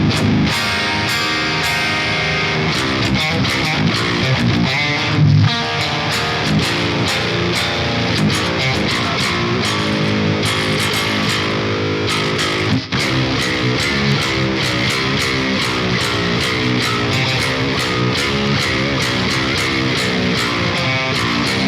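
A heavily distorted electric guitar played through a Neural DSP Rabea X amp model in 5150 style, loud and continuous chugging riffs with chords, washed in delay and reverb.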